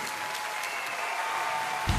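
Audience applause for a young singer at the Juara Mic Junior 2018 singing competition: a steady, dense wash of clapping that continues for the full two seconds without a break.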